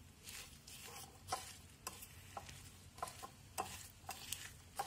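A spoon stirring green chilli pickle with lemon juice, giving soft wet squelching and scraping strokes in an irregular rhythm, close and quiet with no talk.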